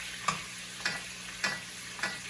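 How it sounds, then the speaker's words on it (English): Porterhouse steak sizzles in a pan as melted butter with thyme and rosemary is spooned over it: a steady frying hiss punctuated by four evenly spaced splashing bastes, close and fairly quiet. "We're gonna take this butter that's melted and we just start bathing this steak in butter"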